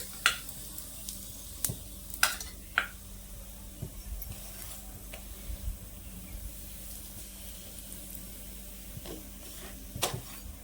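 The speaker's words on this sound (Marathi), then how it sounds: "पराठा आहे ना हा आपला भाजून झालाय" A layered paratha sizzles in oil on a hot pan, a soft continuous frying hiss broken by sharp pops and occasional clinks, fairly quiet and close.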